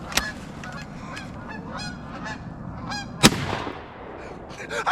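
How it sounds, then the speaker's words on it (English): A flock of geese flying over an autumn camp in Michigan honk again and again in ragged overlapping calls, loud and close, broken by one sharp loud crack partway through. "We have geese coming over."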